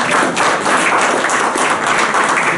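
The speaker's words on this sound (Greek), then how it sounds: "Πόσο χειροκρότημα δεν πήρε κανένα" An audience at a Cretan association's pita-cutting ceremony in Greece applauds, a dense, loud, sustained burst of many hands clapping with no voices standing out.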